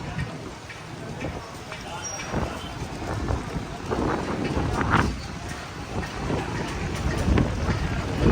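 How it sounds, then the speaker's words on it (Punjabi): A strong windstorm blows at a roadside stop in a Pathan village, gusting and buffeting the microphone in uneven surges under a man's speech, with bursts of wind rising and falling throughout. "ਹਨੇਰੀ ਆ ਗਈ ਆ ਬਹੁਤ ਜ਼ਬਰਦਸਤ"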